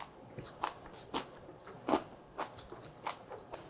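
Steamed aged kimchi (mukeunji), steamed for only ten minutes so it stays chewy and crisp, gives about seven distinct crunchy bites at a steady rhythm, close and clear with no talking.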